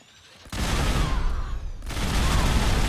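Heavy gunfire and explosions from a minigun and a Gauss rifle in Fallout 4 with an overhaul mod, a dense, loud, continuous barrage that starts abruptly and roars on with no talk.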